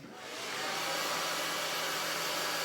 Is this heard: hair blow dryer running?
yes